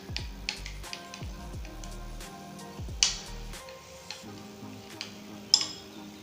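A spoon stirs turmeric into tamarind gojju in a pot, with soft scraping and light metallic clinks against the vessel and a couple of sharper taps, close and fairly quiet.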